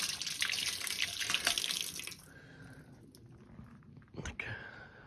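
Water runs along a hiking trail in Bulgaria's Rila mountains, a steady close splashing flow that is dense at first and then thins to a softer trickle, with a brief knock near the end.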